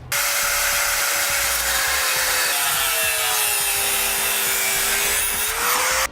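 A loud, continuous grinding cut through metal on a 2017 Chevrolet Equinox, with a steady high whine that shifts pitch slightly as the blade works, running for several seconds.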